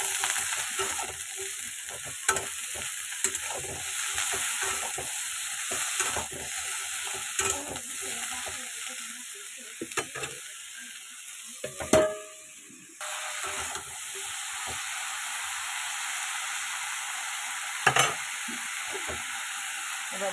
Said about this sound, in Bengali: দিয়ে এটা ঢাকা দিয়ে দিয়ে ভালো করে ভেজে নেব আগে